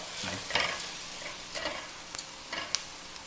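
Chicken risotto rice stirred in a pan as it starts to stick to the bottom, soft scraping strokes at irregular intervals over a low, faint sizzle.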